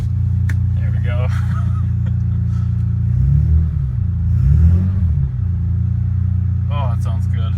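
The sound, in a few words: BMW S54 engine running after a cold start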